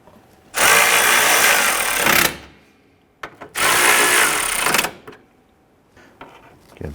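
Power tool tightening bolts during a drive belt kit replacement on a 2012–2017 Toyota Camry engine, with two loud sustained whirring bursts of about one and a half seconds each and light clanks of handling between them.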